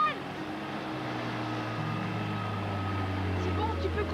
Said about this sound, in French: C'est bon, tu peux couper le moteur.